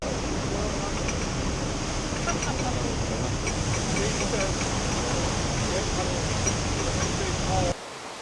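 Water rushes steadily through canal lock scissor paddles on a steep staircase lock flight, a loud continuous roar of churning flow that cuts off abruptly at the end.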